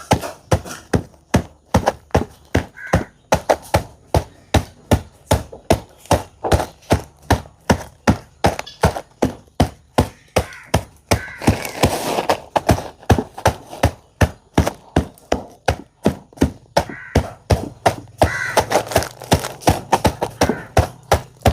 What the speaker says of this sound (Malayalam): അപ്പോൾ നമുക്ക് തന്നെ ഈ കപ്പലണ്ടി പിണ്ണാക്ക് നന്നായിട്ടൊന്ന് പൊടിച്ചെടുക്കണം